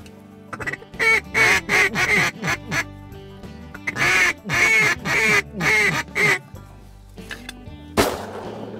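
Loud, close duck quacking comes in repeated bursts of rapid raspy calls with short gaps, from a duck blind in a slough during a waterfowl hunt. A sharp noisy burst near the end may be a gunshot.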